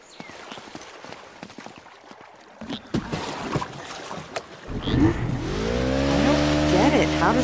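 In Uncharted: Drake's Fortune, in the Drowned City, a boat's motor catches after some clattering and splashing and then rises into a loud, steady, revving drone that climbs in pitch and holds near and strong.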